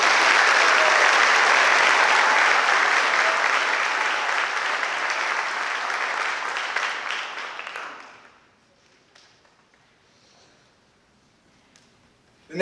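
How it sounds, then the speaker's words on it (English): An audience at a senior school awards night gives a recipient a loud, full round of applause for about eight seconds, then the clapping trails off and leaves near silence. "Please give him a round of applause."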